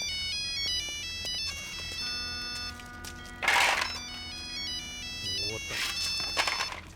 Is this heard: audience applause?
no